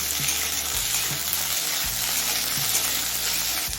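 Potatoes and flat beans frying in a pan for a cauliflower stalk dish, a close, even, hissing sizzle with a few soft stirring scrapes, continuous and with no talking.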